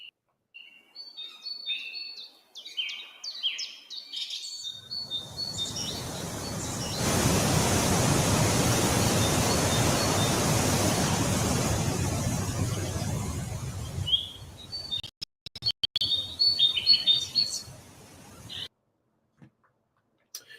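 Jungle ambience: birds chirp and tweet, then a steady rushing waterfall swells in and fades out before the bird calls return.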